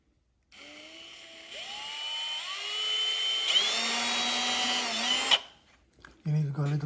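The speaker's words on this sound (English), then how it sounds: "You need to go a little deeper with your drilling." A power drill bores into wood during a mobile closet build, its motor whining steadily and rising in pitch under load for several seconds before stopping, followed by a brief burst of another sound.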